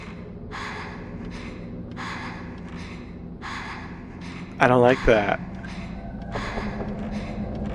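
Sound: video game character panting in pain, Fatal Frame

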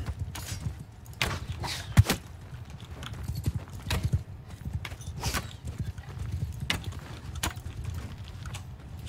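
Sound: horse galloping hooves in Bannerlord video game

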